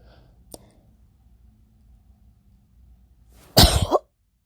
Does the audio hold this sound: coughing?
yes